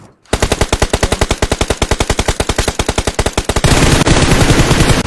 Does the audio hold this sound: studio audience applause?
no